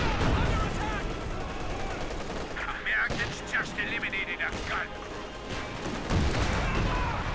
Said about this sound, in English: Artillery fire going in.